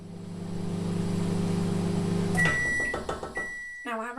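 A microwave oven hums steadily while heating rice for a Thai turkey curry, then stops with a burst of clicks and a short series of loud, close electronic beeps.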